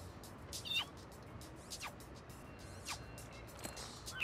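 Faint, short cat meows in the No More Heroes video game, several brief cries spaced a second or so apart over a quiet background.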